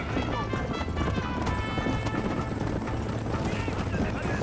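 Horse galloping in Red Dead Redemption, a steady thudding hoofbeat rhythm under continuous game ambience and music, with someone talking over it.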